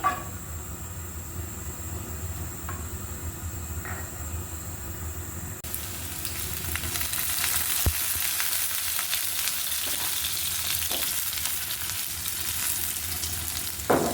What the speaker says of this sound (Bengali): পাত্রে কিন্তু আমি সয়াবিন তেল দিয়ে দিয়েছি গরম হয়ে নাও তেলগুলো রসুন কুচি